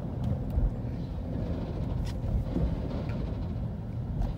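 A loud car engine idles and rumbles nearby outside a hibachi restaurant, a deep, steady low drone with slight surges in level and no talk over it.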